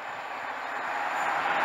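The Northern Lights express from Aberdeen to London King's Cross approaches through Newark North Gate station, a steady broadband rumble and rush that swells gradually louder over the short span.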